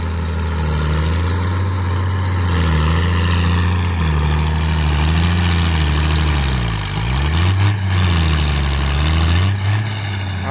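Valtra 1280E tractor from around 1990 with its diesel engine running at a loud, close, steady idle, a low throbbing drone that dips briefly in pitch once midway.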